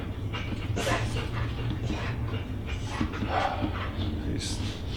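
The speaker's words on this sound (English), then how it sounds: "These dogs just kind of followed Jimmy home, but they're so damn cute" Several dogs bark and whimper in short yelps over a busy, noisy background, with people talking at the same time.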